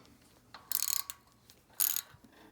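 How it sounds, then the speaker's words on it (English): A ratchet works a bolt back and forth on a Kohler KS540 engine, giving two short bursts of rapid metallic clicking close up, each under a second, separated by a pause, with no talk. "Sometimes going back and forth with the bolt will help her get loose."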